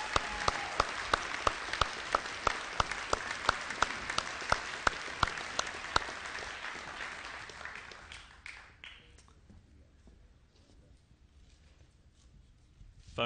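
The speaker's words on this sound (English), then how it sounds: "Big round of applause for the guys." Crowd applause for the team managers at an IndyCar championship celebration, with sharp regular claps standing out at first, then thinning and fading into a quieter room, with a short sound at the very end.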